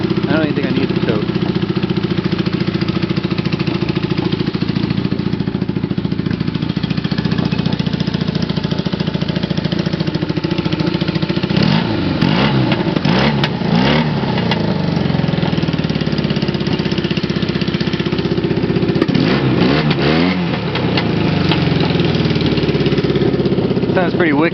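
A 1978 Kawasaki KZ400 motorcycle set up as a dirt-track bike runs steadily at idle right next to the listener, loud throughout, and its engine rises in a couple of brief revs partway through.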